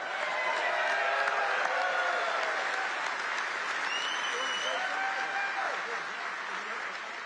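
A large crowd at a political rally applauds steadily, dense clapping mixed with scattered cheers and whistles, loud and sustained before easing slightly toward the end.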